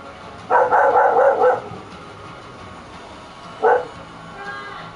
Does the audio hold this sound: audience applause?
no